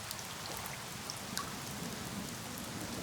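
Steady rain pours down in a rainforest, a dense even hiss of countless drops striking leaves and surfaces, with scattered louder individual drips and no voices, continuous for the whole stretch.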